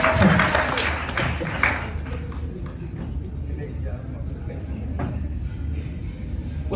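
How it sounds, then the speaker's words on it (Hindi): An audience at a Kangen water demonstration breaks into a short burst of clapping that fades after about two seconds, leaving room noise and voices talking. "इनके लिए ताली बजा दो"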